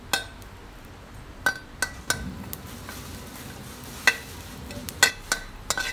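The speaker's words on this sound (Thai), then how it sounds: "เดี๋ยวเราจะคั่วค่ะคั่วให้ทั้งสองอย่างนี้สุกค่ะ" Shallots and garlic dry-roasting in a pan, stirred with a utensil: a scattering of sharp clinks and taps against the pan at irregular intervals, moderately close, over a quiet background.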